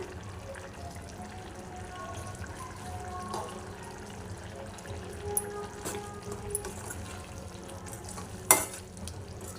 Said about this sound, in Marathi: आपल्या डाळीला सुद्धा छान कड आला आहे